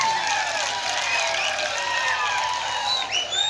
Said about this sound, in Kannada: ಚಪ್ಪಾಳೆ ಹೊಡೆದವರಿಗೆ ಧನ್ಯವಾದಗಳು